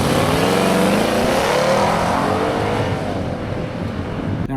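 Audi 4.2 V8, like the R8's engine, revving hard, a loud, close roar that climbs in pitch and then eases off over a few seconds.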